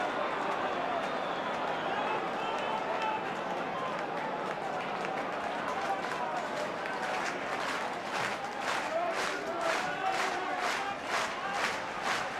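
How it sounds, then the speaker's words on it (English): A large 1970s football stadium crowd at a West Ham versus Liverpool match roars with a broad, sustained wash of noise that swells with whistling and jeering toward the end, reacting unhappily to an offside call. "Crowd not happy with the linesman's decision for that."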